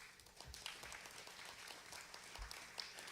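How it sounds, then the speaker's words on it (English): Scattered applause from a church congregation during a Sunday service, fairly quiet and somewhat distant, holding steady for a few seconds without voices. "So give him a round of applause"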